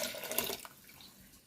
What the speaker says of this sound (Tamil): இதில் வந்து பருப்புக்கு தேவையான அளவுக்கு வந்து நம்ம தண்ணி சேர்த்துக்கலாம்